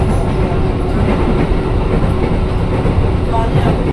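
A KRL commuter train runs on its rails near Pasar Minggu station, giving a steady loud rumble with a low droning hum and faint rhythmic clatter from inside the carriage.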